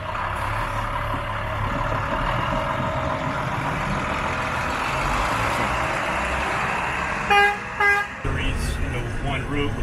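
A Department of Public Works snow plow truck drives along with a steady low engine rumble and road noise, then a few short horn toots near the end; voices talk faintly underneath.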